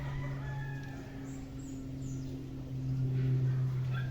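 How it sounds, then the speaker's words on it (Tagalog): Chickens and roosters at a backyard farm crowing and clucking, with a steady low hum and a rooster crow standing out loudly near the end. "Dito naman tayo ngayon sa sa manukan ng tropa."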